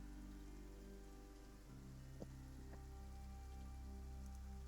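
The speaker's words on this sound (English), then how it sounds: "raining outside." Steady rain falls outside in a quiet fantasy setting with a fresh grave under a cairn, a soft continuous patter with a low hum and a couple of faint taps, heard alone.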